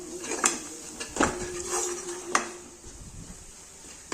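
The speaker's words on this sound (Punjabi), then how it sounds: "ਹਲਦੀ ਦਾ ਹੁਣ ਆਪਾਂ ਮਸਾਲੇ ਚੰਗੀ ਤਰ੍ਹਾਂ ਹਿਲਾ ਲੈਣਾ" A metal spoon scrapes and clinks against a cooking pot while turmeric and spice masala are stirred, giving several sharp knocks and softer scraping strokes spaced irregularly at close range.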